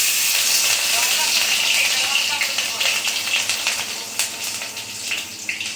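Chopped green chilli hits hot oil with cumin seeds on medium-low heat, giving a bright, steady sizzle and hiss that crackles with small pops and gradually settles.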